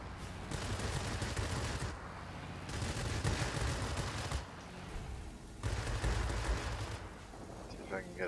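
Fighter plane machine-gun fire in the World of Warplanes game, aboard a Tier V American Bell XP-77, heard as several loud sustained bursts separated by short pauses, over steady engine drone.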